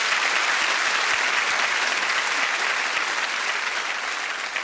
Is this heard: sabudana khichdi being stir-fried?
no